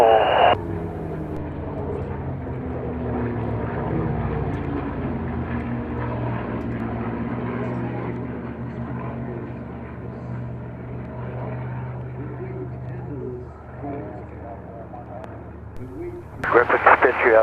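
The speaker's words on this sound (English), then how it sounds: "Griffith, Spitz, you have the Spitfire low." Supermarine Spitfire flying low over an air show at Duxford, its piston engine a steady droning roar that swells and slowly fades, with a commentator speaking over it.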